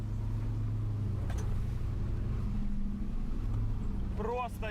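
Porsche Cayenne drives off-road across a rough track, its engine a steady low drone heard from inside the cabin throughout, with a brief voice near the end.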